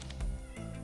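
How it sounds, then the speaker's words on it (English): Pet cats meowing close by, one short plaintive meow, heard alone with no talking. "My cats. You can hear them meowing."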